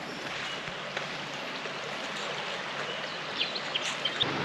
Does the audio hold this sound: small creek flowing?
yes